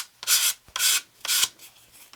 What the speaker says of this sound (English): I just run the sand block right off the edge